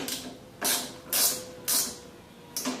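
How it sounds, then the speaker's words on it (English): A wrench ratchets as a nut is tightened on a go-kart mirror mount: four or five short, bright rasping clicks, each burst evenly spaced about half a second apart, close and clear with no talk. "then you can finish tightening the nut."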